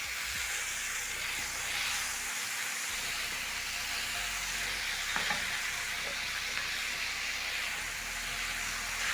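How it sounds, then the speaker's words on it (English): Sukuma wiki (chopped collard greens) cooking with onions in a pan, stirred with a spatula: constant loud sizzling and hiss with occasional scraping clicks of the spatula, close up and with no talking. "using your spatula, you're going to stir as the Sukuma Wiki or collard greens cook"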